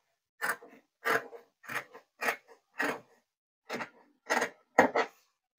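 Scissors snip through fabric while cutting the back neckline of a kaftan, giving eight separate crisp cuts in an uneven rhythm, close and clear with quiet gaps between them.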